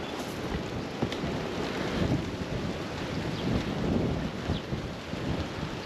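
Wind and rain at a marshland crabbing spot in Surf City, New Jersey, with steady rainfall and loud wind buffeting the microphone, rumbling continuously near and close throughout.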